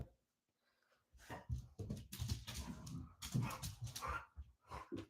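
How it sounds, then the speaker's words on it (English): A pet dog whimpers and lets out a run of close, loud yips and barks in quick bursts after a brief quiet start. "She'll look at you and start barking because I'm not paying her attention."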